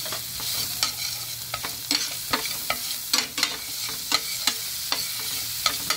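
Chopped onion is stirred through hot oil in a pan, with repeated sharp spatula scrapes and taps at an uneven rhythm over a steady low sizzle, close and moderately loud.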